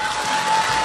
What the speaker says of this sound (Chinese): 先把掌声送给自己好不